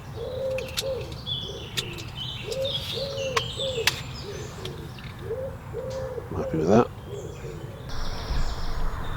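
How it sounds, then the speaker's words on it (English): Outdoor birdsong with repeated soft cooing and scattered chirps and tweets, while a person speaks briefly nearby. "It's quite a lively bird noise."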